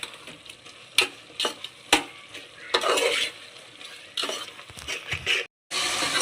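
Chicken with ginger paste is stirred in a frying pan, sharp spatula scrapes and knocks against the metal over a sizzling hiss, coming in irregular bursts with a brief silence near the end.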